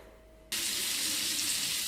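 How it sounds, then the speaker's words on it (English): Hot water from a kitchen tap bursts on abruptly after a quiet moment and then runs in a steady, loud, close-up hiss into a sink. "I'm just going to run some hot water in here for a minute or so"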